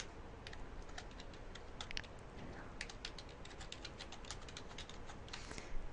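Steady typing on a computer keyboard, a dense run of light key clicks with irregular rhythm, close but fairly quiet over a low background hiss.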